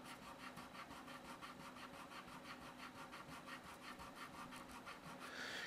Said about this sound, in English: So I'm going to erase this line right here.